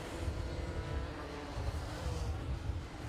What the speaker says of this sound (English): That kart does sound a little bit like the exhaust is blowing a little bit on that Ian Taylor kart.